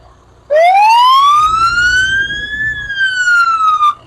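A fire tanker truck from Willow Grove Fire and Rescue sounds its siren at a lighted Christmas parade in downtown Sulphur Springs, Texas: a loud, close wail bursts in, rises slowly, then dips and holds.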